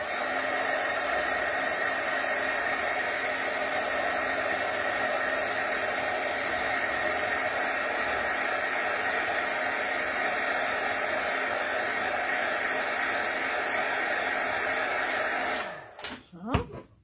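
A heat tool blows a steady, loud airy whoosh with a constant motor hum while drying craft ink on paper, running continuously for about fifteen seconds before cutting off, followed by brief handling noise.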